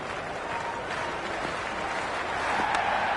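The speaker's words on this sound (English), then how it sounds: "There's an almost tangible fervour throughout the crowd at the moment." A cricket crowd in the video game Cricket 26 applauds and cheers in a continuous wash of clapping that swells slightly toward the end, with no clear talk over it.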